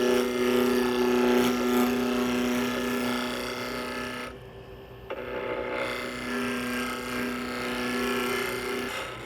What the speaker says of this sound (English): Now I can use the spindle roughing gouge, turn the remaining portion into a cylinder